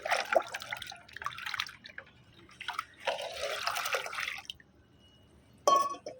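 Water pours in several separate bursts, a splashy rush that starts and stops, with quiet pauses between.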